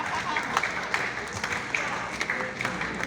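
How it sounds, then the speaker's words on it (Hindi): Audience clapping at a Hindi comic poetry recital rolls on steadily, with sharper claps popping out of the dense patter and a little talk underneath. "ये मोहल्ला अच्छी तालियां बजा रहा है"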